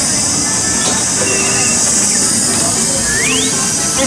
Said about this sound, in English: This is train 3.